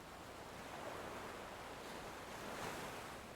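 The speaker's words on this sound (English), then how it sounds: "focus on the sounds around you. The waves" Ocean waves wash onto a beach in a steady, broad roar that swells and recedes slightly, with no voices present.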